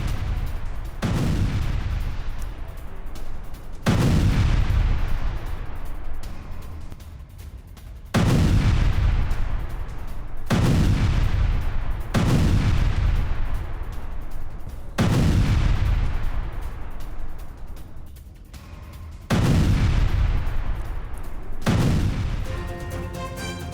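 Hezbollah tunnels are blown up in controlled blasts by Israeli forces, a series of seven or eight heavy booming detonations at irregular intervals, each with a long rumbling decay, loud and continuous with no speech.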